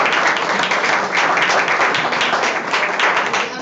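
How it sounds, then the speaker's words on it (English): An audience at a judges' candidate forum claps steadily in dense, sustained applause that stays loud throughout, with no clear speech over it. "let's give them a round of applause"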